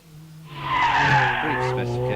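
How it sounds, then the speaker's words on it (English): A supercharged 1600 R53 Mini Cooper S hillclimb car with limited slip differential launches off the line at Wiscombe Park, its engine note rising steadily with tyre scrabble, moderately close and continuous. "Jack Cobb is away off the line with his R53 Cooper S."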